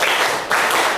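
Students in a vocational high school classroom clapping a rhythmic counting cheer, two loud, close bursts of group clapping with a short break between them.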